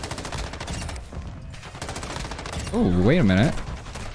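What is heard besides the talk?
M13 rifle gunfire in a video game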